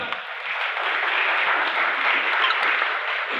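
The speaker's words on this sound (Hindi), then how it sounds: "इसके लिए जोरदार तालियां हो जाए एवरीवन।" An audience at a business pre-launch event in Delhi NCR applauds, a dense, steady wash of clapping that holds evenly loud for the full few seconds.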